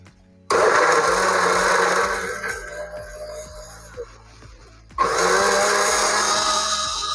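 Electric blender whirring as it blends fruit juice at a Ramadan market stall, starting abruptly with a loud roar, dipping in pitch midway, then surging back to full power.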